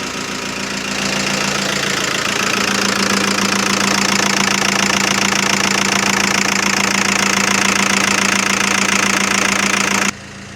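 A Renault Fluence 1.5 dCi diesel engine with a skipped timing belt idles loudly and roughly, a steady clattering knock close up that cuts off abruptly near the end.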